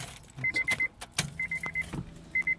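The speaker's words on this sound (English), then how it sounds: "I think that's the fuel pump." A 1994 Honda Accord that won't turn over, with short, even whirring bursts in groups of three to five from the fuel pump, close by and moderately loud, broken by a few clicks and a low hum.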